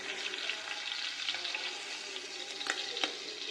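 Shrimp frying in hot oil for a shrimp and turnip curry, a steady dense sizzle with a few sharper crackles and pops near the end, close and continuous with no voices.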